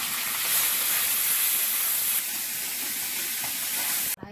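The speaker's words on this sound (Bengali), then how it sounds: "মাছগুলো অল্প করে ভাজবে" Fish frying in a little oil in a home kitchen pan: a continuous bright sizzle and hiss that holds steady for several seconds, then cuts off abruptly.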